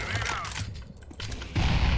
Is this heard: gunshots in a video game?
yes